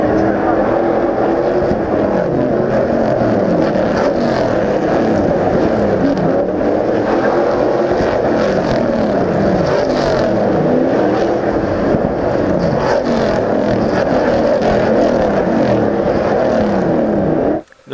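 V8 Supercars race on the Gold Coast street circuit, heard as a steady, loud engine roar with repeating surges as cars pass, sustained for the whole stretch before cutting off abruptly at the end.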